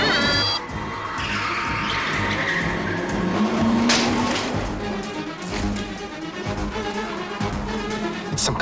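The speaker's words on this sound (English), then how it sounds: "It's some kind of sports car." A sports car speeds past with a loud engine roar and sustained tire squeal as it skids, running nearly continuously over about eight seconds and holding steady at close range.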